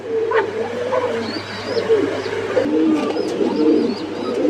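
Lahori pigeons cooing in a loft, soft throaty coos repeating over a steady background hum, with faint chirps from other birds and no speech.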